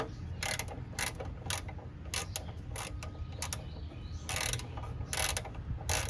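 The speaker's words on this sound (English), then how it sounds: "get our flexi head in here, and we'll get this bolt tightened up" A 10mm flex-head ratchet tightens a bolt near the radiator of a GM minivan, producing bursts of sharp close ratcheting clicks in short repeated strokes.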